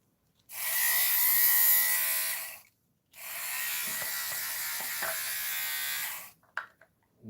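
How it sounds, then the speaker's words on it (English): A rechargeable electric lint shaver buzzes loudly in two long continuous runs with a short pause between, its motor whir steady and close, followed by a few brief clicks as it is cleaned out; no speech. "I'm cleaning out that lint shaver here."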